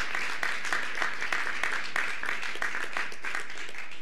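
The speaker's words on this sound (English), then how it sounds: "Applause, exactly." An audience at a Microsoft Surface Pro 3 launch event applauds with dense, sustained clapping that stays steady and fairly loud throughout.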